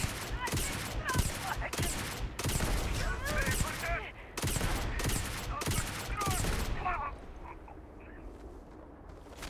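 Gunfire in the space game Starfield, Shattered Space expansion, rapid bursts of loud automatic shots in repeated volleys, then a quieter stretch with distant rattles and a voice talking.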